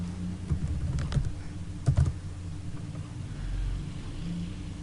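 Someone types on a computer keyboard, entering a Google search: a close run of soft, uneven key clicks in small clusters, with no talking.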